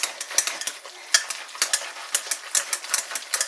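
A twice baked potato casserole gets mixed with butter by hand, giving a quick, uneven run of soft scrapes and sticky clicking taps, close and steady with no talk.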